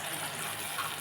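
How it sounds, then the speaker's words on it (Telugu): Water poured from a glass into a pot of egg curry on the stove, a soft, steady gushing splash, faint and brief, with no talk. "మళ్ళీ వాటర్ వేస్తున్నాను"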